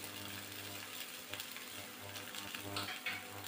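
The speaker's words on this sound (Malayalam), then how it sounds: "ഉച്ചയ്ക്ക് ഊണിന് വേണ്ടി ഏതു മുട്ട പൊരിക്കുകയാണ്" An egg fries in a pan with chopped onion and chili, giving a quiet, steady sizzle with faint stirring and scraping, close by and without talk.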